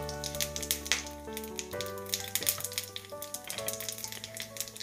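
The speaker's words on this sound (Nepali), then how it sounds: "तेल तातेपछि मैले यसमा राखेँ आधा सानो चम्चा जिरा, त्यसै गरी एउटा तेजपत्ता, एउटा रातो सुकेको खुर्सानी" Cumin seeds, a bay leaf and a dried red chili sizzle in hot oil for a Nepali potato and paneer curry, giving a steady crackling fry with scattered pops over soft background music.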